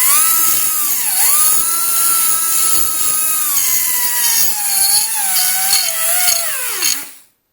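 A rotary tool whines steadily while grinding burrs from the inside of a Land Rover clutch fork part, the pitch dipping and wavering under load for several seconds before it cuts off.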